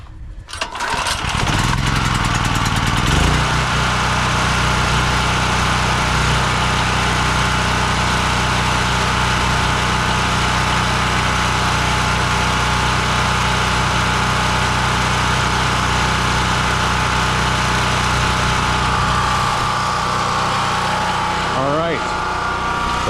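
A Cabela's Outdoorsman portable generator engine, just fitted with a replacement carburetor, starts and runs at a steady, loud drone for about twenty seconds before a brief change near the end.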